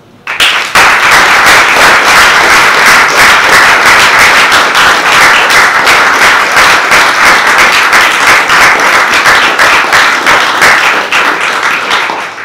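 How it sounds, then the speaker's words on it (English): A big round of applause from the audience at a Budapest Pride Festival talk, loud dense clapping starting abruptly and continuing steadily for over ten seconds with little else heard. "these three people and everybody who's been in that research should have a big round of applause"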